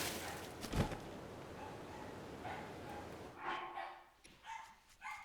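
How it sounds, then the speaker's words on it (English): Dogs bark outdoors at a distance, with a few faint yips and bursts spread over a noisy background, not close or loud. "Can you guys hear my dogs barking?"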